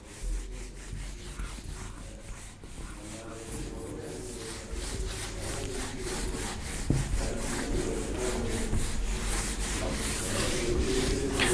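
An eraser rubs back and forth across paper, a close, steady scratchy friction that keeps going and grows slightly louder over the stretch.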